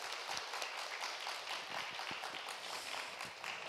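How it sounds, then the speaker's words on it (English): Soft, distant applause from a conference audience after a panel discussion, a steady patter of many hands clapping throughout. "Please give them another big round of applause."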